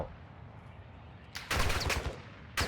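Bursts of automatic gunfire in the Call of Duty DMZ video game, starting after a quiet stretch and rattling loudly through the latter half, fairly close, with no talk.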